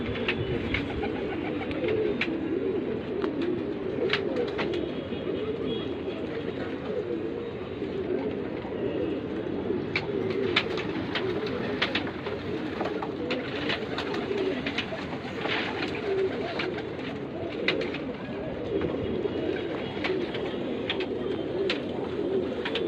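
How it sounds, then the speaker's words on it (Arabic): Pigeons in an Egyptian rooftop loft cooing steadily for the whole stretch, a dense chorus of soft, low, overlapping coos with scattered wing flutters and clicks close by. "حمام الغزار الحلو عشان انتوا بس بتحبوا تتفرجوا عليه"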